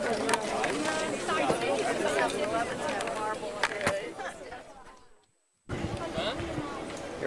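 Tourist crowd at the Acropolis, a dense murmur of many voices and chatter close by, with nearby people talking over it; it cuts out briefly before resuming.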